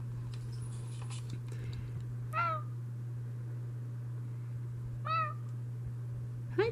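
A house cat meows three times indoors, each meow short and clear with long quiet gaps between, over a steady low electrical hum.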